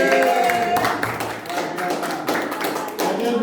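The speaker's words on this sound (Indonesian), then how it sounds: "tepuk tangan." A room of teachers at a training workshop claps, with dense overlapping hand claps sustained through the moment and a few voices mixed in.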